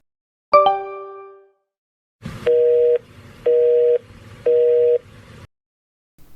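Telephone tones after a call is hung up: one ringing electronic beep, then three evenly spaced steady busy-signal tones, clear and close with no talk.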